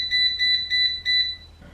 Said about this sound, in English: The timer just went off after the 10 minutes.